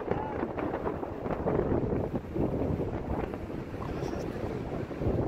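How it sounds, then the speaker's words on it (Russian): Wind gusting hard at Lake Tahoe, California, roaring steadily against the microphone as a broad, continuous rush with no pause. "Ветер резко поднялся"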